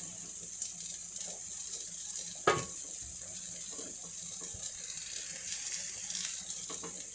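A ladle of pasta cooking water, about 1.5 decilitres, is poured onto cooked zucchini in a kitchen, giving a brief splash amid steady running-water hiss.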